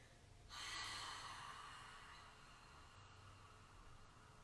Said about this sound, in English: let's take a big deep exhale through the mouth